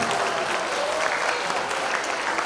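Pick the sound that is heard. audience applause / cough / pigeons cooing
audience applause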